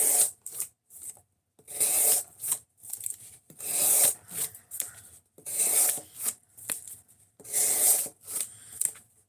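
Freehand knife sharpening on a 5K grit whetstone: repeated rasping strokes of the blade across the wet stone in steady bursts of about a second, with brief pauses between passes, close and moderately loud.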